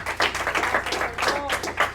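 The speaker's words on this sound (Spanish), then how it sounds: "¿Cuántos le pueden dar un aplauso al Señor en esta mañana?" Scattered clapping from a church congregation during a Sunday morning service, uneven bursts of hands close by, mixed with voices and background hum.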